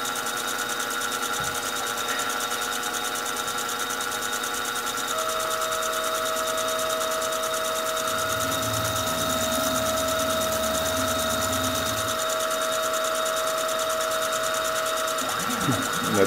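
Metal milling machine taking light passes while cutting a gear, the spindle at 1,200 RPM, giving a steady mechanical whine with a low rumble that swells in the middle, continuous and close.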